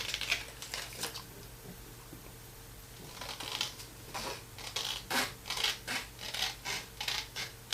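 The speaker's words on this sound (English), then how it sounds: "we're going to cut out these completely" Scissors cutting paper journal pockets, a run of rapid snipping strokes up close, then a pause before a steady rhythmic series of crisp cuts.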